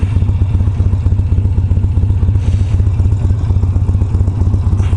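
A Harley-Davidson Sportster motorcycle engine runs close and loud, a steady low lumpy idle with an even pulsing beat throughout, no voices.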